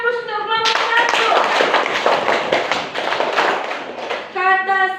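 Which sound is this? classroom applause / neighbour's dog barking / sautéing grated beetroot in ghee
classroom applause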